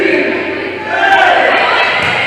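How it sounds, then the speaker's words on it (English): Crowd noise fills a high school varsity volleyball gym during a Farmington Knights versus Hillsboro Hawks match, a steady wash of massed voices that swells midway, loud and continuous throughout. "I do like the BKP chant."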